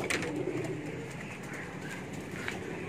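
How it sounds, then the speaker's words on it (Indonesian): Pigeons coo softly nearby in a quiet setting, with a few low, throaty coos and faint fluttering bird sounds over a light background hiss. "Ini merpati yang habis saya kasih makan."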